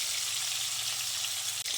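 Katla fish pieces frying in hot oil, four at a time, give a steady, dense hiss with no gaps, loud and close.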